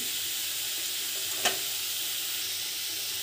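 Mustard greens frying in a pan, a steady close sizzle with constant hiss throughout and one brief stir or clink near the middle, no voices.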